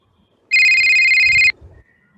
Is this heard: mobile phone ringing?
yes